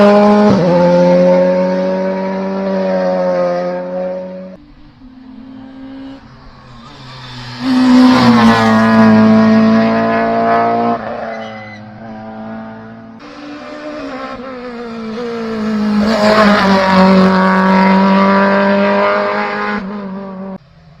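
Renault Clio rally cars at a rally stage, engines revving hard and roaring past in several loud waves, with rising and falling pitch as each car accelerates and passes close by.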